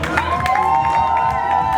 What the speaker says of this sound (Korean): 박수 좀 쳐주세요.